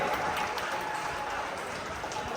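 A crowd at a Shiv Shakti garba class workshop in Amreli claps to welcome the team, a dense, sustained wash of applause that stays even throughout.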